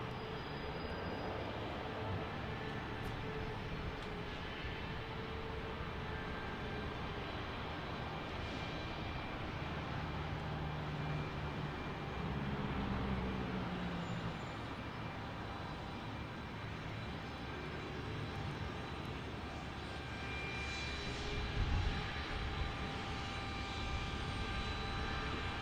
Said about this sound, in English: here's our departure, headed off to West Yellowstone on CRJ 200